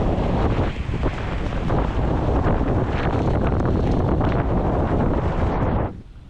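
Strong wind roars steadily over a sailboat at sea, a loud, broadband gusting rush with wave and hull noise beneath, running continuously before cutting off near the end.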